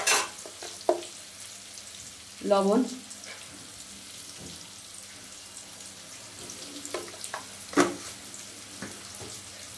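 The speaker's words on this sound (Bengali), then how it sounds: "এবার বেগুনটাকে একটু ভাজতে দেবো।" Eggplant pieces fry in a pan for a pumpkin-greens curry, giving a low steady sizzle broken by a few sharp stirring scrapes, with a brief spoken word.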